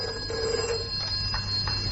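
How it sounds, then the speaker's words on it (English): An old-style telephone bell rings in a radio thriller, a steady electric trill with a couple of brief bursts over a constant low hum, fairly close and alone with no voices. "Just let me take this phone call."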